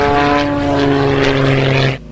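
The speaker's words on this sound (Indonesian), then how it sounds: "Wow, ada pesawat aircraft." A propeller aircraft in the Spider-Man: Into the Spider-Verse video game drones overhead with a steady buzzing engine hum and stacked tones, fairly loud and close, cutting off abruptly at the end.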